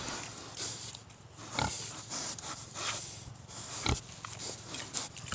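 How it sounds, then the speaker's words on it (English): Several pigs on a farm grunt and sniff nearby, giving soft intermittent snorts with a few louder grunts scattered through quiet surroundings. "Oink, oink. My piggies."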